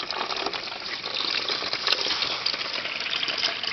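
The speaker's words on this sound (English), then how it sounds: "then you go back to your tap, turn it on, fill it up again," Tap water gushes into a bucket used for rinsing tomato seeds on a family farm, a steady, close splashing rush with no voices.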